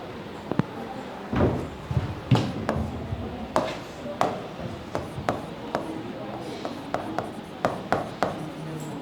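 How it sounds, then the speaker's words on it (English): Marker or chalk scratching across a classroom board during a university lecture, a run of irregular short strokes and taps at close range, with a voice speaking at times. "Let me write over there."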